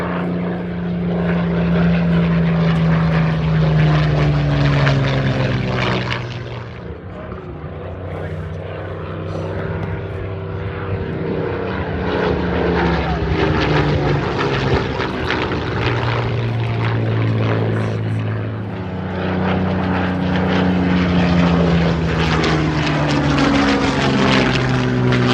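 A Supermarine Spitfire propeller aircraft flies at an airshow, its piston engine droning loud and steady with a rising and falling pitch as it passes overhead, continuous for the whole stretch.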